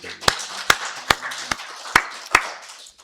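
In a church worship service, sharp single claps come about every half second, six distinct close hand strikes with quieter sound between them.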